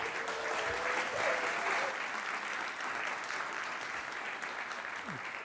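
A conference audience at SmashingConf New York applauds a speaker taking the stage, a steady wash of clapping that stays fairly even and a bit distant throughout, with no voices over it.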